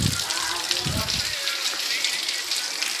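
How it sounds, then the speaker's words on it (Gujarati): Rain falls steadily outside a village home, a dense, continuous hiss with a few brief low thumps and a voice near the start. "અહીંયા અત્યારે વરસાદ પડે"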